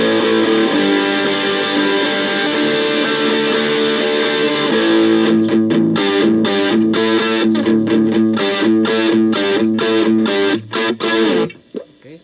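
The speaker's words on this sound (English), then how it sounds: "So just the distortion." An electric guitar played through a BOSS distortion pedal gives a loud, sustained distorted chord that rings for several seconds, then turns into rhythmic choppy strums and cuts off at the end.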